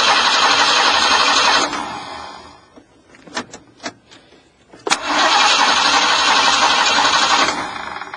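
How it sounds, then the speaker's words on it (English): A van engine cranks loudly with a fast rhythmic churn like a low compression engine, stops briefly with a few clicks, then cranks again for several seconds. "It's like a low compression engine when it's cranking."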